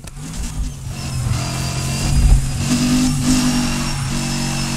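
A car drifting in the racing game Need For Speed Heat, a four-wheel-drive model, its engine droning steadily with rising revs and a swelling roar midway, loud and continuous with no talk.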